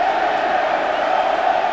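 A stadium crowd of 54,000 cheers the England rugby side onto the field before a match against South Africa: a steady, dense wall of roaring and whooping, loud and continuous with no breaks.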